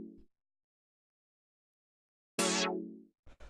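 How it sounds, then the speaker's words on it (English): A single old-school funk synth stab with vibrato for a house track, loud and bright with a wavering tone, preceded by a short blip and followed by brief trailing fragments. "I was going for more of like an old school funk type of synth like you would hear with all that vibrato."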